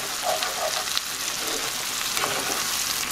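Beans and jalapeños frying in hot oil while being stirred, a dense continuous sizzle with soft scraping and light clatter throughout, close by and without speech.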